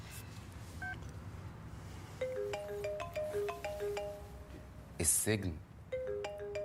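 A mobile phone rings and keeps ringing with a melodic electronic ringtone of rising and falling beeped notes, cut across by a sharp burst midway, while someone speaks in the scene.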